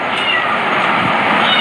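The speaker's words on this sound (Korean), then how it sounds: "지금 여기 야옹이 소리 들리세요?" A cat meows faintly behind a loud, steady wash of hiss-like noise that fills the whole short stretch.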